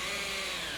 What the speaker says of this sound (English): I'm going to start the drill going first.